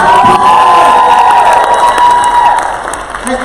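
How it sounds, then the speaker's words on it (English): A poetry slam crowd erupts in loud applause and cheering after the judges' scores, with shouts and whoops over dense clapping that stays strong before easing slightly at the end. "Applause"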